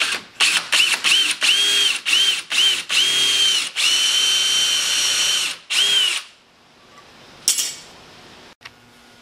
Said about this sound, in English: drill in with a very small drill bit, because these are very small screws